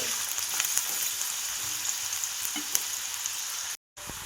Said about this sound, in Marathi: कढईमध्ये तेल ओतलेले आहे आणि एक कांदा चिरून घेतलेला आहे। तो आता कांदा टाकून घेते